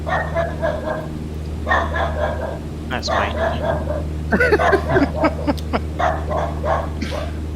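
A dog nearby barks in several bursts of sharp, uneven yaps over the steady low drone of a Cessna 152 engine in a flight simulator, and someone speaks briefly between the barks.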